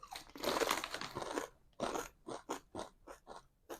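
Sweet, tangy, spicy potato chips, tasting much like vinegar chips, are crunched up close: a long crackly bite, then a string of shorter crisp chews fading in rhythm, with no talking.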